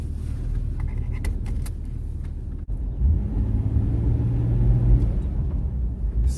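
A Jeep TJ drives on a test run after a rear wheel brake cylinder change, giving a steady low rumble of engine and road noise with a few light rattles early on, a brief dip, then a slightly louder rolling drone.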